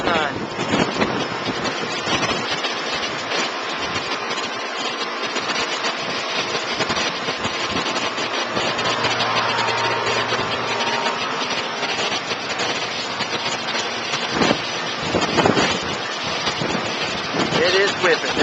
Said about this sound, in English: I'd say wind gusts are probably 60 miles an hour.